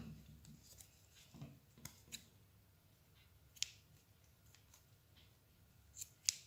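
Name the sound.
scissors cutting cotton thread for a bracelet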